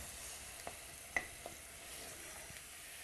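Chopped tinned tomatoes get stirred in a frying pan for a spiced cauliflower base, giving faint, soft scraping taps at irregular intervals over a low, steady sizzle.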